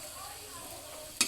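Chillies frying in a pan give a quiet, steady sizzle, then a brief louder clatter right at the end.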